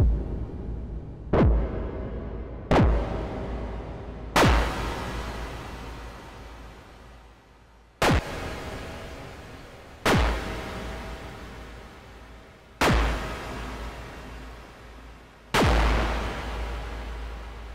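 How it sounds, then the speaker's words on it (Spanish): Synthesized explosion effects built from white noise in the Sylenth1 synth: eight sharp broadband bursts, each decaying into a long rumbling noisy tail, spaced irregularly with no voices. "Y ahí queda ahora como una explosión."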